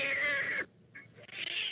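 A cat meows with a long, drawn-out cry followed by a brief, softer second meow, then quiet room noise.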